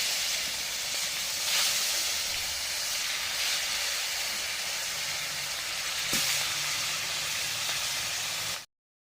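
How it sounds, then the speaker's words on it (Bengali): Fish hisses and sizzles in hot oil at a steady volume for the whole stretch, with a few louder spits and crackles breaking through before the sound cuts off abruptly. "তেল গরম হয়ে গেছে মাছগুলো এবার ভেজে নেব"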